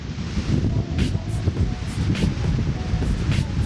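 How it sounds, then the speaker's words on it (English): Steady wind buffets the microphone in low, gusty rumbles on a mountaintop near Palm Springs, California, with faint rustling underneath and no voices. "It's very windy"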